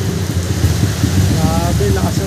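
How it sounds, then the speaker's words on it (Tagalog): Heavy rain pours in a dense, loud, continuous wash while riding a Honda Click 125 scooter, the low rumble of wind and engine mixed in, with a brief voice speaking over the downpour. "Grabe, lakas ang ulan."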